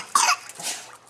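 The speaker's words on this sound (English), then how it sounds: "Cough it up." A young child gives a single short, close cough, followed by a soft breathy trailing sound.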